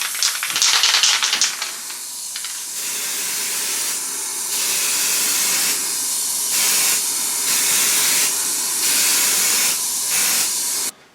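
A hissing aerosol can sprays white primer in several bursts, some long and some short, close by with no talking.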